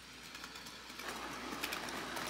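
A Bachmann model of Edward the blue engine runs along its track pulling a string of cars, giving off a faint, steady whirring rumble that grows slightly louder as it goes.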